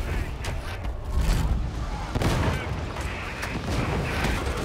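Rapid gunfire from a gunner enemy in the co-op shooter Darktide, a dense continuous barrage of shots and booms with bursts of battle noise throughout, players talking over it.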